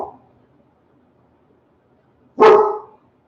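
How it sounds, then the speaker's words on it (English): A dog gives one loud, close bark after a brief faint sound at the start, with near silence between. "Here goes the bark party"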